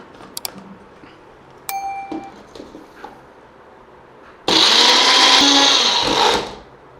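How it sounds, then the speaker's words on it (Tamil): A mixer grinder jar grinds about 150 g of medium tomatoes into a fine paste for pepper chicken, a loud steady whirring burst of about two seconds following a few faint clicks and clatters. "அந்த தக்காளியை ஜாரில் சேர்த்து அரைச்சி எடுத்துக்கிடுவோம்"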